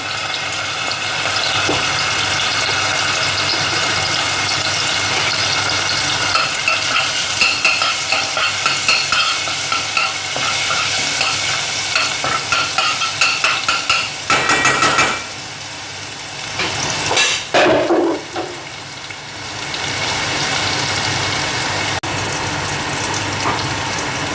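Garlic and coriander frying in a pan, a loud continuous sizzle with a run of quick scraping stirs midway, then a brief quieter stretch before the hiss returns.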